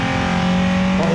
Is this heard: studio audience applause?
no